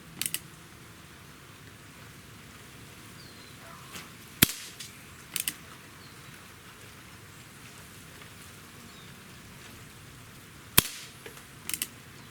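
A Colt Single Action Army NRA model revolver is fired outdoors in a grouping test: sharp, cracking reports come at uneven intervals, some in quick pairs, over a quiet, slightly noisy background with no talking.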